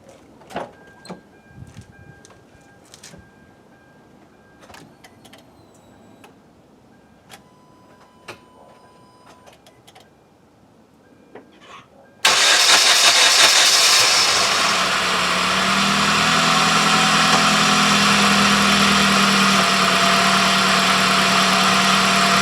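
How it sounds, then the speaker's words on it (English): A Hyundai Genesis 2.0T R Spec under repair has its ignition cycled, with faint ticks and clicks from priming, then the engine cranks and catches abruptly into a loud, steady idle that settles slightly lower, close by. "I'm gonna cycle the ignition a few times just to prime that fuel pump, and then we'll see if it starts or blows up"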